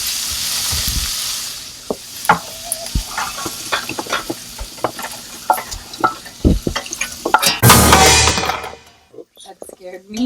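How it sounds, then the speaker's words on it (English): Sautéed vegetables are blitzed in a food processor: a loud, harsh whir bursts out for about a second near the end, after a run of clattering knocks and scrapes while the bowl is loaded. "I want to throw these inside the food processor"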